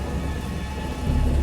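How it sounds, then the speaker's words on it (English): Heavy rain pours in a dense, steady roar while thunder rumbles low beneath it, swelling louder toward the end. "야, 비 온다."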